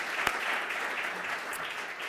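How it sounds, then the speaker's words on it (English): An audience at an education symposium applauds, a dense, steady sheet of clapping from many hands at moderate distance, continuous throughout. "Can I please get a round of applause?"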